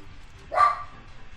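A dog gives a single sharp, close bark that stands out clearly against a quiet background.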